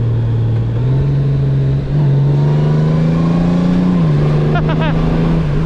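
Honda Goldwing motorcycle engine holding high revs, a loud, steady droning note that climbs gradually and dips briefly near the end as the gear changes, with heavy engine braking and continuous wind rush.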